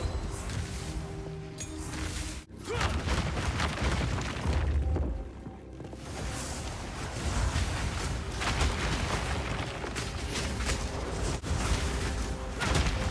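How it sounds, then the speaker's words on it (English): Explosions from a Witch Hunter skill blowing up enemies in Path of Exile 2, heard as a dense, continuous wash of booms and bursts over busy game combat noise, fairly loud throughout. "That was the Witch Hunter skill that explodes enemies."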